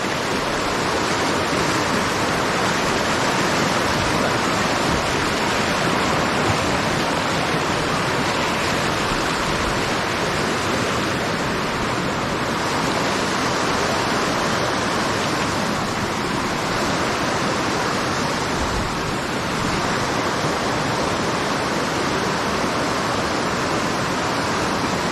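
La Leona waterfall in Guanacaste, Costa Rica, rushing nearby: a loud, unbroken wash of falling water that fills the whole stretch evenly with no voices over it.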